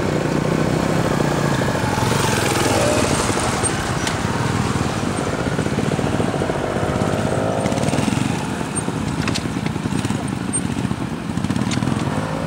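Motorcycles lean through corners on a training circuit with little throttle, engines droning loud and steady close by, rising and falling slightly, while an instructor speaks over them.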